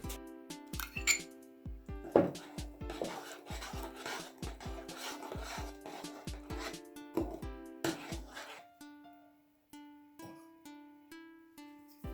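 A spoon scrapes and rasps around a bowl in steady strokes, stirring semolina cookie dough with apricot jam, with clinks of metal on the sides; the rhythm slows and turns to lighter taps near the end.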